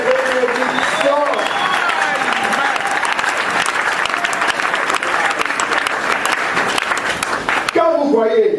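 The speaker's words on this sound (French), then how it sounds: "Oui, tu as raison d'acclamer" A church congregation applauding and acclaiming during a sermon, steady loud clapping and cheering from a large crowd sustained throughout, with a voice speaking over it near the end.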